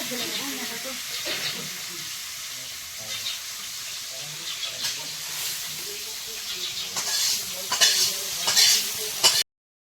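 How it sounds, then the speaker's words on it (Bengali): Fish frying in oil in a pan over a gas flame crackles and sizzles steadily for about ten seconds, with irregular louder spitting bursts toward the end. "মাছগুলো গ্যাসে ভেজে নিচ্ছি তাড়াতাড়ি হবে"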